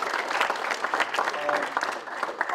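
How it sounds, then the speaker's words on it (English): An indoor audience at a talk on senior living options applauds steadily for a few seconds, a dense patter of clapping hands close by with some voices mixed in. "Maybe you can applaud one more time for him."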